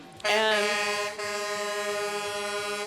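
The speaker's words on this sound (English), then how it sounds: "since they're honking" Loud truck air horns blare at a St. Patrick's Day street parade in Lawrence, Kansas, one long sustained blast followed by a brief dip and a continuing steady horn, with faint crowd voices underneath.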